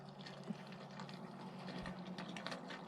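Water running into a newly installed shallow well on raw land in Idaho, a faint, steady gurgling flow with a low undertone and a few small splashes.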